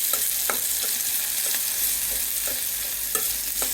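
Onion and green chillies frying in oil in a pan produce a loud, steady sizzle, with occasional sharp clicks of a utensil against the pan and no speech.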